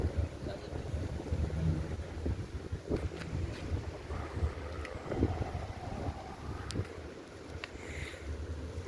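Strong, steady wind roars and buffets the microphone continuously at night by the sea, with faint sea noise and occasional small knocks underneath.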